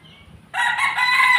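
A white Kelso gamefowl rooster gives one loud, close crow that starts abruptly after a brief quiet moment and carries on strongly to the end.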